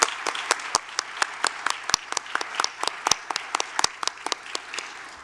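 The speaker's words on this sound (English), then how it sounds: "Let's give them all a round of applause, please." An audience claps at an awards and scholarship ceremony for regional educators, a dense run of applause with sharp individual claps standing out close by, steady for several seconds.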